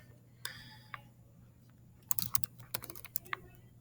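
Fast keystrokes on a computer keyboard while typing a line of HTML code, an irregular run of sharp clicks that clusters into quick bursts in the second half, close and fairly quiet, with no voice.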